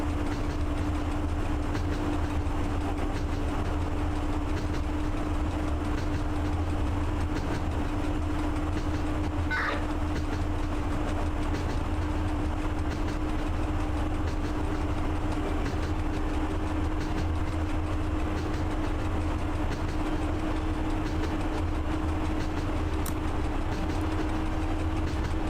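A BR232 diesel locomotive in the Train Driver 2 game runs with a steady, even rumble and a constant low hum throughout, with no talking.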